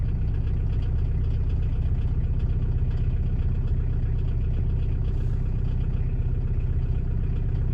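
A car engine idles in first gear, a steady loud low throb with a faint rhythmic clatter running evenly throughout, close by and with no talk.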